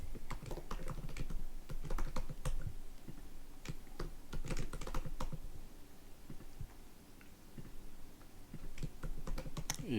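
Typing on a computer keyboard, steady quiet clicking keystrokes in irregular bursts over about ten seconds, heard alone without talk.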